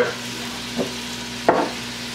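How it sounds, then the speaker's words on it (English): Shrimp cook in a pan, with a soft, steady sizzle running underneath and two short stirring scrapes, the second louder, close by. "You're seeing the shrimp cook?"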